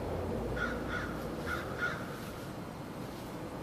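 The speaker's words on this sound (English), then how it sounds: "And there's our friend Mr. Crow." A crow caws four times in a quick, evenly spaced series, clear but somewhat distant over a steady outdoor background rumble, with no voices.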